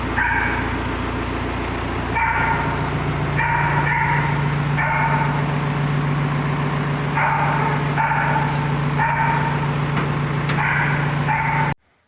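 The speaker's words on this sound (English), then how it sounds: "she's barking at birds over there." A dog barks repeatedly at birds in short bursts at some distance, over a constant low engine rumble that cuts off at the end.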